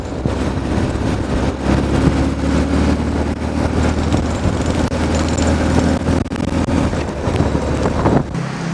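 Kawasaki KZ1000 police motorcycle engine idling steadily, a continuous low rumble with wind buffeting the microphone throughout, close and loud, no voices.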